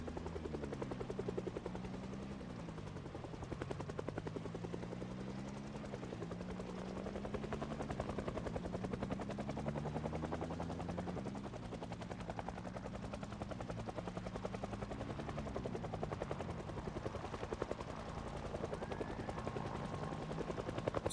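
Helicopter in the Project Zomboid video game flying overhead, a steady loud rotor thump with a wavering, pulsing drone that fills the whole stretch, alone with no talk.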